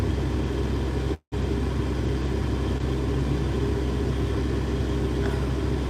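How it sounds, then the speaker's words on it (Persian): A parked car idles with the air conditioning running on a hot day, giving a steady, even engine rumble with a brief dropout partway through. "این ماشین روشن، یه ذره کولر زدم"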